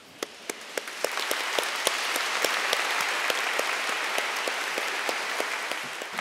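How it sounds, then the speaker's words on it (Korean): A seated audience at a talk on artificial intelligence claps steadily, many hands forming a dense sustained applause with a few sharper individual claps standing out near the start. "박수로 또 이렇게 응원해 주셨습니다"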